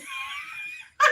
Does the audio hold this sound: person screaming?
yes